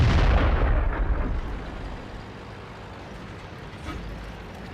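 A tank gun fires in World of Tanks with one loud, close boom that decays into a rumbling echo, followed by quieter engine and ambient battle noise.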